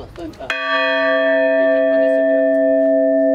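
A loud chapel bell strikes once after a brief bit of noise, its deep tone ringing on and slowly sustaining.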